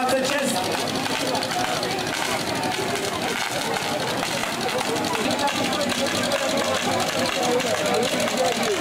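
The engine of a vintage 1926 combined fire pump runs in a continuous, busy mechanical clatter outdoors, steady and fairly loud throughout, with voices and crowd noise mixed in.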